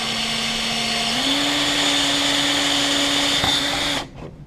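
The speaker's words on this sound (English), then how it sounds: "drill this one." A power drill runs at building construction for a yacht club, holding a steady high whine with a slight rise in pitch partway through before cutting off abruptly near the end.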